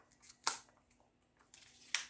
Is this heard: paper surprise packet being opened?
yes